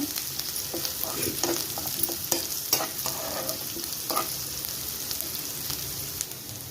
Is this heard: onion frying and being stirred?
yes